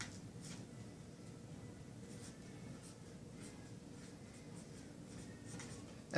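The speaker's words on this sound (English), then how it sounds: "We'll write some more here." Someone writes on a board during a lecture on pedigrees. Faint, scattered scratches and taps of the marker sit over a low, quiet room hum, with no speech.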